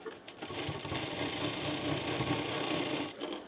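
A sewing machine runs steadily as it stitches a handle onto a small fabric handbag, with a continuous close mechanical whir and rattle and no talking.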